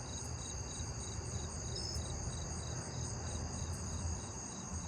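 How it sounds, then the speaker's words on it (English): A jumping bush cricket chirps steadily at night, its high, rhythmic pulses repeating evenly over a constant background insect drone, with no voices. "Jumping bush cricket."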